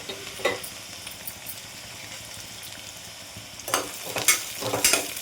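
Green chillies, onions and cashews frying in a pan for coconut rice, a steady soft sizzle with brief stirring scrapes near the start and a cluster of louder stirring clatters toward the end.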